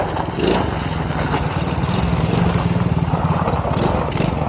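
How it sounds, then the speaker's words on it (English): A new ATV four-wheeler engine runs steadily nearby, a continuous buzzing drone with a pulsing rhythm that holds throughout at fairly constant loudness. "He is actually just loving his new four-wheeler."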